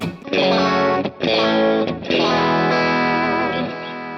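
Distorted electric guitar through a Dr Z amp Kemper profile plays loud sustained chords with a big, heavy power-section tone, briefly choked twice before a long ringing chord that fades at the end.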